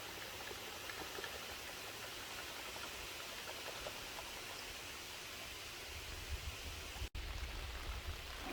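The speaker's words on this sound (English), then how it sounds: "It starts to rain." Rain beginning to fall at a lakeside campsite in the Adirondack Mountains, a soft, steady patter of drops on the surroundings, fairly faint and continuous, with a brief gap near the end and no talking.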